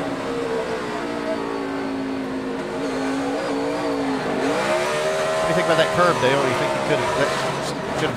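NASCAR stock cars racing at Watkins Glen road course, loud engine drone with rising and falling revs and a car passing close, under continuous commentary from broadcasters.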